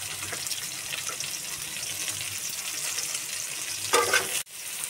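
Chopped onion and green chili frying in mustard oil in a home kitchen pan, a steady close sizzle running throughout with a brief louder burst near the end.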